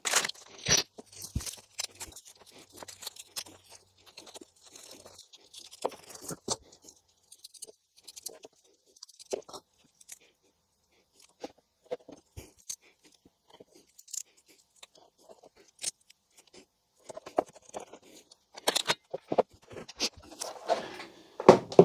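Scissors snipping small squares from a strip of Velcro, heard as sparse, close, crisp crunching cuts in irregular bursts separated by quiet pauses, with faint handling noises between them.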